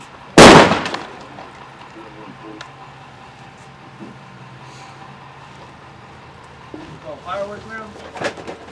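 A flashbang grenade tossed and going off, one sudden loud blast at the start, then a quieter stretch with faint background noise and a few sharp knocks and bursts near the end; voices are heard under it.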